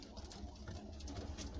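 Young roller pigeons in a backyard loft coo softly behind a hazy wash of outdoor noise, their low murmurs blending together throughout.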